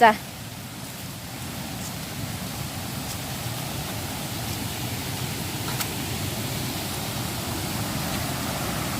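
A forest stream flows steadily and evenly, a constant close rushing wash of water that does not change for the whole stretch, with only a brief sharper sound at the very start.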